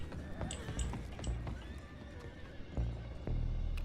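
Horses clip-clop and neigh in Red Dead Redemption 2, hoofbeats steady and close under a layer of low rumbling game noise for the whole stretch.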